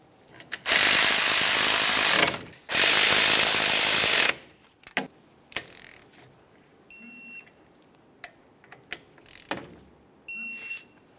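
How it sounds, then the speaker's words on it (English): Two long, loud bursts of a ratchet or power tool running down brake caliper slider bolts on a 2005-2010 Dodge Dakota, then scattered short clicks and knocks of tool handling with faint tones, no voices. "Bottom them out. Torque them to 26 foot-pounds."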